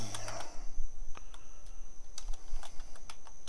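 Keys tapped on a computer keyboard while entering an item name in the Conan Exiles dev kit, a scattered run of light clicks over faint background hum.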